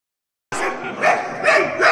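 Several dogs bark and yip loudly and close by on a street in Indira Nagar at night, with overlapping bursts in a rough, irregular rhythm that starts suddenly and continues without pause.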